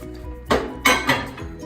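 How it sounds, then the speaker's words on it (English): A Tony Luke's cheesesteak set down on a plate before microwave reheating, three quick clinking knocks of dish contact close up in a quiet kitchen. "we're going to put it on a plate"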